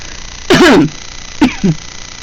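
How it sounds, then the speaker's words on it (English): Two short coughing bursts from one person, a longer harsh one followed by a brief double cough a second later, close and fairly loud in a quiet room. "And coughing."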